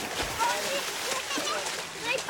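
An American alligator splashes and sloshes in water, a broad wet churning that swells and falls over a couple of seconds, close by, with a faint voice now and then.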